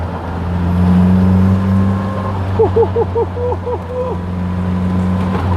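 The engine of a Caterham Seven 420R sports car drones steadily up close, joined midway by a quick run of short rising chirps.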